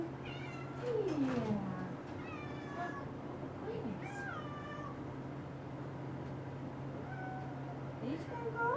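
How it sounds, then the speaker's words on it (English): A domestic cat meows several times indoors by a door, with drawn-out, rising and falling cries spread across the stretch, fairly close, while a person briefly speaks. "There's another kitty out there."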